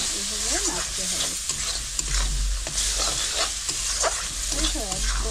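Onions softened with a little water being stirred in a frying pan for a katla fish curry, a steady low sizzle with scraping spoon strokes and soft clatter, a voice briefly audible in the background.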